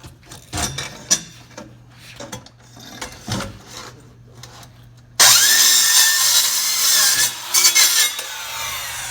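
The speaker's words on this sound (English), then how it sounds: "that saw works pretty damn good" A power saw cuts through a fireproof gun safe damaged in a house fire. Scattered knocks and bursts come first, then a loud, sustained abrasive grinding whine runs steadily to the end.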